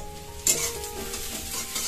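Fish sizzles in hot oil in a pan for an Odia-style fish curry: a steady, close frying hiss that swells as the pieces hit the pan, with a few soft stirring sounds and no talk.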